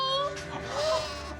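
In a new barn, sheep give a short wavering bleat, heard briefly and mixed under people talking.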